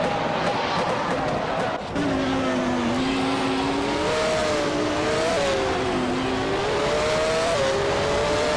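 A Williams FW18 racing car engine screams steadily in a racing video game, its high, sustained pitch rising and dipping with gear changes and throttle, loud and continuous with a brief dip near two seconds.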